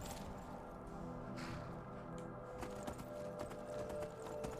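An Imperial horse's hooves clop in a Skyrim modded game, a steady run of soft footfalls under continuous game music and ambience.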